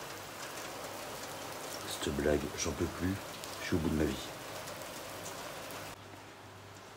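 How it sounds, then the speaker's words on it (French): Steady rain falls outdoors on a hot summer day, a continuous close patter and hiss throughout, with someone speaking over it for a few seconds in the middle. "Il pleut, mais il fait toujours 30 degrés, quoi."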